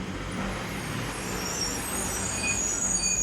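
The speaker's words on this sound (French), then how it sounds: "Un chauffeur de camion gare son véhicule le long d'un fossé de drainage." A truck parks alongside a drainage ditch on a road south of Kathmandu, its engine rumbling steadily under a broad wash of road noise, with faint high hisses near the end.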